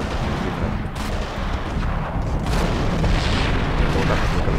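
Video game gunfire from enemies crackles and booms in repeated shots over a constant rumble of game noise, with a player talking throughout.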